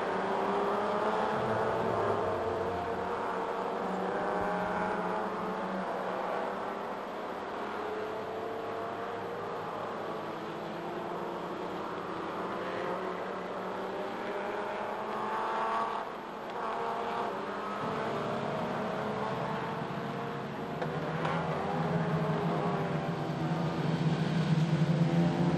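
Touring race cars lapping the Sandown 3 Hour race in 1996, a steady blur of engine drone from several cars streaming past at a distance, with no voices over it.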